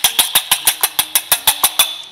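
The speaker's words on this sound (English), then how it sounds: "And then I'll whisk these up" A whisk beats eggs with tarragon in a bowl, giving rapid, even clinks: about a dozen sharp strokes in just over two seconds, close and fairly loud, with no talking.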